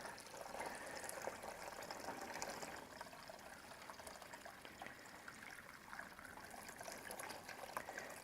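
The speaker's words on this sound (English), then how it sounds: "just pour all of that into the foot bath" Herbal tea is poured through a filter into a foot bath, making a faint, continuous trickle of liquid that runs steadily for several seconds with no voices.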